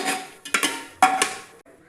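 A utensil clinks and scrapes against a cooking pot while whole spices such as cloves, cinnamon and bay leaf are sautéed for chicken biryani. A few short metallic clatters come in bursts, fairly quiet, with no voices.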